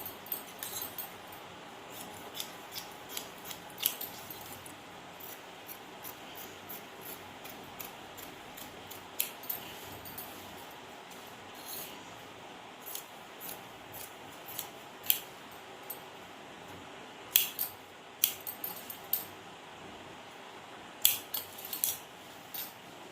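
Scissors snipping through blouse fabric in a steady run of small, crisp cuts, close and fairly quiet, with no talking.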